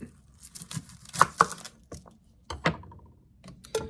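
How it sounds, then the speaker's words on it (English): A knife chops a small peeled onion in a home kitchen, a scattered handful of crisp, close taps and cuts separated by short quiet gaps. "Peel and chop up a little onion"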